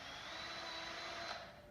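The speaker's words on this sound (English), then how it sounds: "I'm going to go ahead and drill through the center of the rest of the hole here" Steady drone of a drill boring through a hole with a dowel jig set against a miter board, running continuously at close range with a faint rise near the end, no voices.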